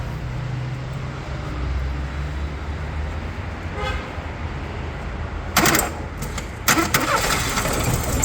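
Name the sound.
Daewoo Nexia car engine starting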